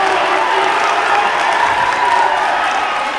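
High school boys basketball crowd roaring after a foul in a semifinal game, a loud, continuous wash of cheering and clapping that holds steady from start to end.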